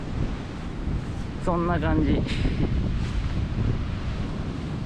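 Typhoon No. 11 wind roars steadily across a coastline while heavy ocean surf rumbles beneath it, a constant loud buffeting close to the microphone, with a person briefly speaking over the noise.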